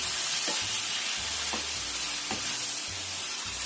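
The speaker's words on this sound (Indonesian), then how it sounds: "kita tambahkan tomatnya. Kita tumis sampai keluar airnya gitu ya." Tomatoes sautéing in a hot pan, a steady bright sizzle with soft stirring scrapes and a few faint clinks underneath.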